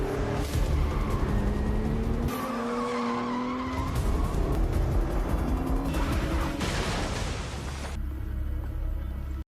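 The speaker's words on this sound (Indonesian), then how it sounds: "Dia mempercepat laju mobilnya tetapi akhirnya menabrak mobil lain." A car speeding through a movie chase scene, loud tires squealing and skidding with a roaring engine, then abrupt cuts and a heavy crash into another car, all without speech.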